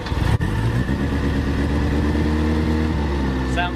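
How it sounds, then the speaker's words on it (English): A vintage Reliant van engine revving under throttle, a loud, close, continuous rough mechanical drone that holds steady for several seconds after a brief initial blip. "the Reliant's running so nicely"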